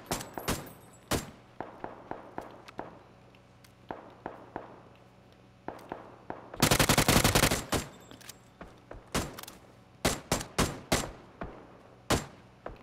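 Gunfire in the video game PUBG, scattered single shots and quick bursts with one dense sustained spray of fire midway, fairly loud against a quiet background, no talking.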